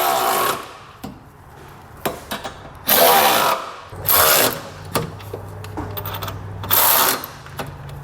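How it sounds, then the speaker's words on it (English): Ratcheting socket wrench, 3/4 inch or 19 mm, snugging down the bolts of an etrailer trailer hitch receiver, heard as several short bursts of ratchet clicks separated by pauses and taps of metal hardware, close and fairly loud. "we'll come back with a 3/4 inch or 19 millimeter socket and snug everything down"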